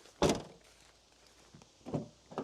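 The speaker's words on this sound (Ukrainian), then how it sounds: "Закриваємо багажник" A solid thunk of the boot lid of a 2010 Mitsubishi Outlander 2.2 diesel shutting nearby, followed by a couple of softer knocks and shuffling sounds.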